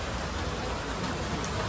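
Rain pours down heavily and steadily, a dense, constant hiss close by that fills the whole short stretch with no voices.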